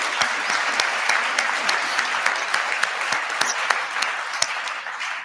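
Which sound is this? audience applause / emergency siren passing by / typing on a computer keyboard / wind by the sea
audience applause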